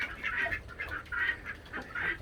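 Khaki Campbell ducks on a farm give a string of short, raspy quacks in a loose rhythm, moderately close and fairly soft, with no talking over them.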